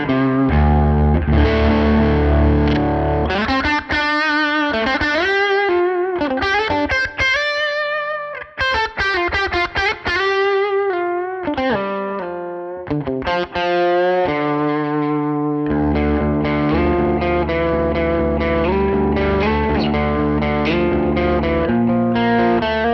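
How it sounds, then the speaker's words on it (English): Electric guitar played through a Fractal FM3 modelling a Bassman amp into a 4x10 cabinet, a loud, continuous overdriven phrase of chords and single notes with varied picking dynamics, played alone without talk. "We'll hear the Bassman on the FM3 first"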